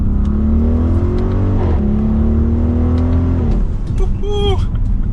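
A 2022 Audi RSQ8 in dynamic mode pulling hard from second gear, the engine droning and rising steadily in pitch, dipping at a shift and climbing again, heard from inside the cabin with someone talking over it.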